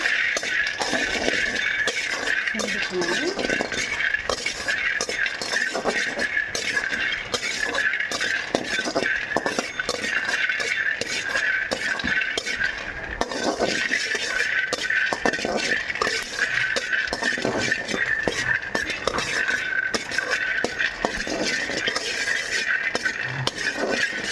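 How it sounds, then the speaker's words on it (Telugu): Peanuts dry-roasting in a pan while being stirred, giving a steady run of light clinks, rattles and scraping throughout, close and continuous with no talk. "కొద్దిగా పల్లీలు అయితే వేయించుకుంటున్నాను."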